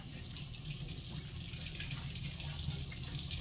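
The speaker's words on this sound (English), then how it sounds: "Let me wash my hands real good." Kitchen tap water runs steadily into a sink while hands are washed before cooking, a continuous close splashing hiss with no talking over it.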